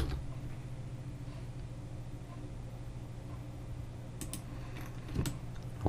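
Quiet, rapid clicking of keys on a computer keyboard over a low background hum, with a few sharper taps near the end.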